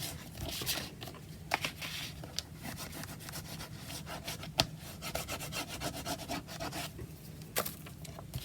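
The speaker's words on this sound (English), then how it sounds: "it's quite advisory to burnish sticky tape onto the card" Sticky tape is burnished onto card with quiet, repeated rubbing strokes, a soft scratchy friction with occasional sharper ticks and taps, close and low in level, without speech.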